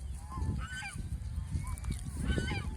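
Geese on a goose farm give several nasal honks in quick, irregular bursts, fairly close, over a low background rumble.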